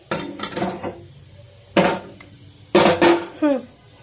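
A few bursts of metal scraping and clanking as rajma masala is shifted into a wok on a gas stove, close and fairly loud, separated by short pauses.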